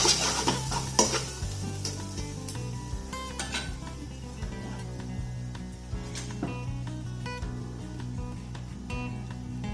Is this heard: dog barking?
no